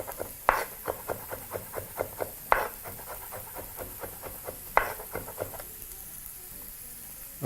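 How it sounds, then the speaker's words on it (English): A knife chops garlic finer on a cutting board in a home kitchen, giving a run of quick, evenly spaced taps with a few harder knocks over a faint background hiss. "Proceed to chop that a little finer if the pieces are still too large."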